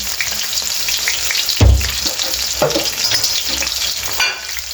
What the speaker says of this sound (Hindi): तो ये प्याज के साथ में हम इसको हल्का सा ब्राउन करेंगे।